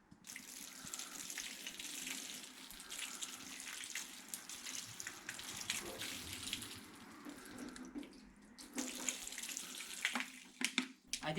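Water runs and splashes steadily over a ceramic-coated car's fully cured paint, a continuous broadband rush that briefly drops out near the end before resuming.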